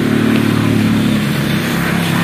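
A motorcycle engine runs loudly and close by, its steady idling rumble filling the short stretch without any speech over it.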